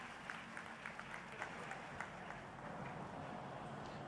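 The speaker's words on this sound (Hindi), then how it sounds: "हमारी कमली दीदी के लिए जोरदार ताली" Applause from a large audience at a women's self-help group outreach event in Madhya Pradesh, a steady dense clapping that swells slightly toward the end and carries on without a pause for just over four seconds.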